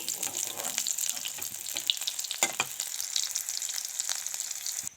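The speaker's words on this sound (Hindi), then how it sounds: "और उसके बाद मैं फ्राई करूँगी अंडा" Eggs fry in a pan with a hissing, watery sizzle close by, steady for about five seconds before cutting off abruptly.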